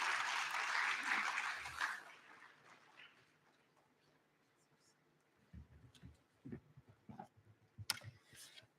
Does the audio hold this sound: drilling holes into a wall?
no